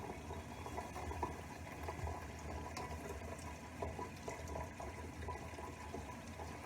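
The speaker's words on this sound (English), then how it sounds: "So I'm just going to rinse them off from the top." Mushrooms are rinsed under a running tap, making a faint, continuous rush of water with small splashy variations. There is no speech.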